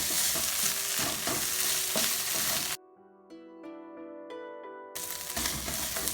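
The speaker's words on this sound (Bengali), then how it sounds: "ভাজি করব" Garlic cloves frying in a pan for a chepa shutki bharta, a loud close sizzle with stirring scrapes, interrupted midway by a couple of seconds of tonal music before the frying returns.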